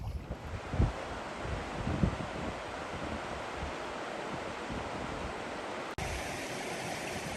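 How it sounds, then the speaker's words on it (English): Wind gusts outdoors near a waterfall on a portage trail between lakes, producing a loud, steady roar and microphone buffeting with a few stronger thumps early on. "It's kind of windy."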